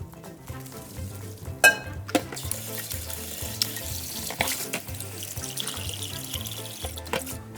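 Water draining from boiled noodles in a kitchen sink, a steady close splashing trickle with scattered clanks and knocks throughout.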